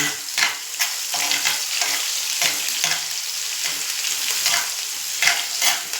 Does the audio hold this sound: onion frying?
yes